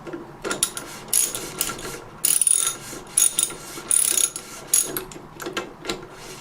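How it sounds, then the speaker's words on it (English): A 13/16 socket wrench ratchets a Moen bath faucet cartridge nut loose, giving close, irregular bursts of clicking ratchet pawl sounds with brief gaps between strokes. "just unscrewing the cartridge nut"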